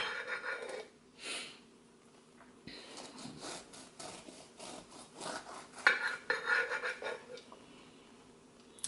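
A knife sawing through a baked plantain coconut bread, soft rasping and rubbing strokes in short uneven bursts, close and fairly quiet.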